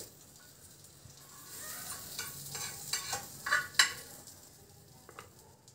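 Butter sizzles in a pan over a low flame while a sandwich is cooked, a soft steady frying hiss with scattered crackles and pops that grow a little livelier toward the middle.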